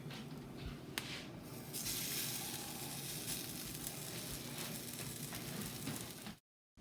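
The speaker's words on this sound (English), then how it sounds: "So now it's going to sizzle because it's been" Buffalo chicken in a pan sizzles steadily as it heats, a faint, continuous crackling hiss with no talk.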